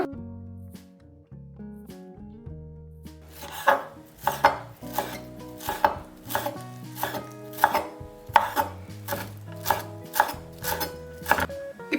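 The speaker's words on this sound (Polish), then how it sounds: "A teraz pokroję pietruszkę." Knife chopping fresh parsley on a board: a steady run of crisp, evenly spaced chops, close and distinct, starting after a few seconds over background music.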